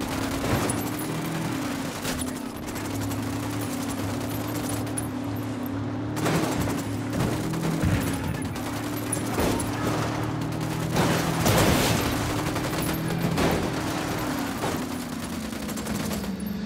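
Machine-gun fire rattles in the video game Ghost Recon as bursts and sustained fusillades of gunfire repeat across the clip, loud and close over a droning engine or mechanical hum, with no speech.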